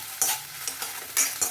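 Spring onions and ginger garlic paste fry in hot oil for a mushroom Manchurian, making a steady close sizzle broken by a few sharp stirring scrapes.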